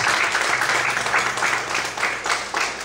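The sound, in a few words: church congregation applauding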